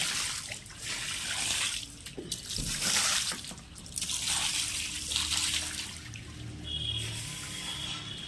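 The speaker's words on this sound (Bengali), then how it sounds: "আমি দুয়ারে জল দিয়ে নি।" Water poured and splashed onto a doorstep at home, an uneven wash of splashing and trickling with several louder gushes, fairly close and with no talking.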